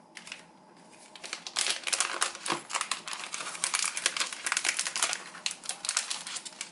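Plastic wrap being peeled off a new 2018 9.7-inch iPad, close, busy crinkling and crackling that starts quiet and becomes loud and continuous.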